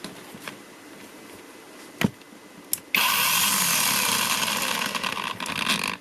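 A cordless Makita DUC 302Z electric chainsaw starts up on a test run after a faulty stall-and-no-power problem, whirring loudly and steadily for several seconds after two brief clicks, with no talking.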